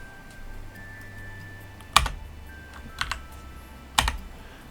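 A few isolated computer keyboard keystrokes, sharp clicks at roughly one-second intervals, heard near and alone in a quiet room while editing a network config in a terminal.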